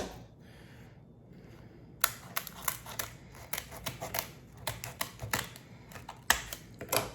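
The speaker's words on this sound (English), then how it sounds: "Let's take our scissors, run them along the back of this guy." Scissors snip along the back of a lobster tail shell in a run of crisp, close cracking clicks with an irregular rhythm, following a quiet pause.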